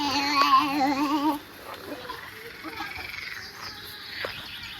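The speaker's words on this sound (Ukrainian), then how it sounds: "Перший раз чую звук жаб" Frogs croak in a rapid, warbling chorus close by for about a second, then only faint outdoor background with a few soft calls remains.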